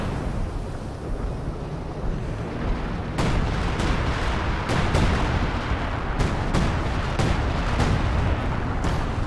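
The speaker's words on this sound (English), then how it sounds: "Now in comes a scavenge artillery barrage." Artillery barrage in Company of Heroes 2, a 2v2 real-time strategy match: a steady rumbling battle bed broken by repeated sharp booms and blasts, several close together after the first few seconds, loud and continuous.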